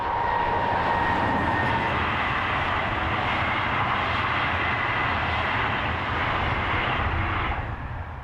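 An SNCF BB 26000 series electric locomotive, number 26025, passes close by with a loud, sustained roar of motors and rolling wheels that stays steady before easing slightly at the end.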